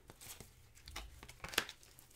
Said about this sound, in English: I am shuffling and dealing you an Angel Oracle card